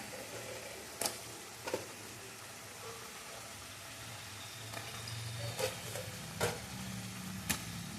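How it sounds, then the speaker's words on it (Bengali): Chicken pieces go into a pan of lightly browned onions for makhani chicken curry, giving a low steady sizzle with several sharp clinks and scrapes of a spatula scattered throughout. "পেঁয়াজটা একটু লাল লাল হয়েছে সামান্য এর মধ্যে আমি চিকেনটা দিয়ে দেবো"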